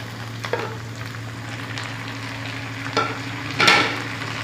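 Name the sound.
onion and tomato frying in a karahi for beef keema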